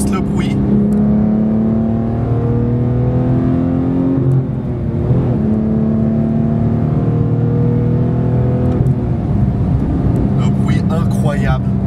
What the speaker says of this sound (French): c'est le 4 litres flat 6 de chez Porsche, 500 chevaux, 460 Nm de couple